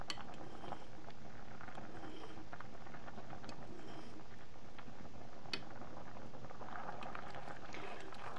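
A pot of creamy noodle soup boiling on the stove, with a steady, dense bubbling and simmering wash and occasional small pops and clinks, close and continuous with no talking.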